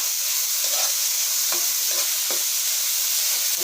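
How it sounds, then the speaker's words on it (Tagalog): Fresh shrimp paste (alamang) sautés in a pan with a loud continuous hiss and several spatula scrapes as it is stirred, with no voices. "Bagong alamang. Gisa lang po ng gisa."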